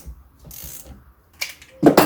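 Flywheel nut being tightened on a Yamaha YZ 250 engine: a short burst of metallic ratchet clicks, then a pause, then sharper clanks and a brief ring of metal, close and fairly loud, with no voice.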